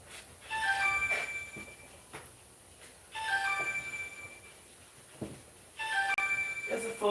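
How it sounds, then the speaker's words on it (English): A phone rings in three repeated bursts of melodic electronic tones, each lasting about two seconds with short pauses between, under a faint background murmur. "There's a phone ringing."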